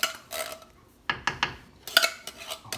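Grain being stirred into a mash for a pumpkin beer brew day, with irregular metallic scrapes and clanks of a spoon against the pot, close and sharp.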